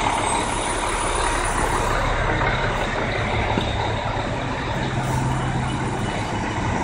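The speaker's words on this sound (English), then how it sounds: "Endless buses." Constant loud diesel drone from a line of buses idling and moving up residential Bergen Street, a dense steady rumble close by with no voices.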